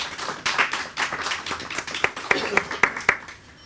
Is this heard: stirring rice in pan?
no